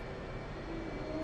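An F/A-18C Hornet jet engine revs up in the DCS World flight simulator, heard as a steady, dense roar with a faint rising whine. It is moderately loud and continuous throughout.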